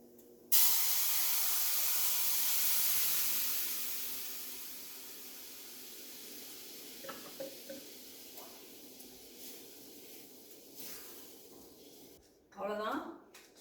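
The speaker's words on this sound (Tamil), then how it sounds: "இப்போ இந்த அரைச்சி வச்ச விழுதையும் போட்டு லைட்டாக பரட்டிடலாம்." Ground coriander chutney paste hits a hot pan with curry leaves, setting off a loud burst of hissing sizzle that slowly fades, with a few clatters near the end.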